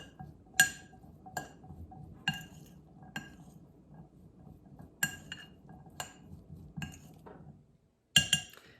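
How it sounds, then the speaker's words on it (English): Spoon clinking against a bowl while high-antioxidant spices are stirred together for a heart-healthy snack, a series of sharp, separate clinks at irregular intervals over a soft scraping background, close and fairly quiet. "I'm going to mix that all together."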